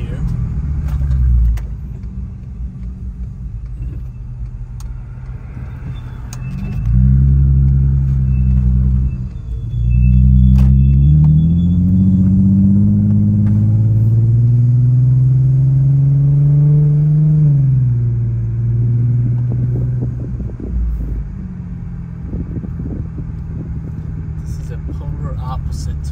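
An all-wheel drive car pulls away from a tight U-turn, its engine rumbling then climbing in a long rising rev before easing off, heard from inside the cabin with brief talk at times.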